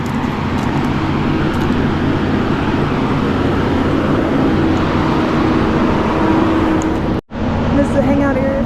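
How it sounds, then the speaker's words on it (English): A generator at a trailside resort drones steadily and loudly throughout, a constant low engine hum with a brief dropout near the end. "That noise is the generator."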